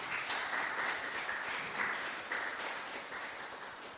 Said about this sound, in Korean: 환영의 박수 드리겠습니다